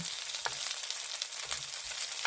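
Shredded potato pancake with chili peppers frying in a pan of oil, a steady close sizzle with brief crackling pops throughout.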